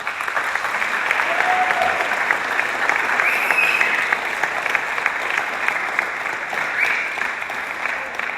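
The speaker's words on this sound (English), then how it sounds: "Let's give him a round of applause." An audience at a high school baseball award ceremony claps in a steady, even wash of applause for about eight seconds, fairly distant and sustained without pause.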